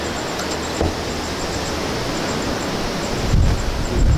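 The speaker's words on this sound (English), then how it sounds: "You can probably hear the wind." Strong hurricane wind from Hurricane Harvey roars outside during a power outage, a dense continuous rushing noise with gusts swelling louder toward the end.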